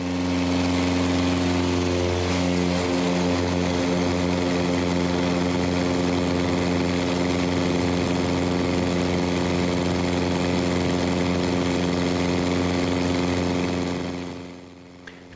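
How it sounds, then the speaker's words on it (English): FX3 light aircraft engine at full power through takeoff and climb, a loud, steady buzzing drone with rich harmonics that holds constant and then cuts off abruptly at the end. "Takeoff performance of the FX3 is noticeably better than my current PA-18."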